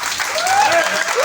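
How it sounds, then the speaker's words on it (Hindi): An audience at a motivational talk breaks into loud, dense clapping that fills the brief moment, with a voice speaking over it. "एक बार जोरदार ताली बजाइए।"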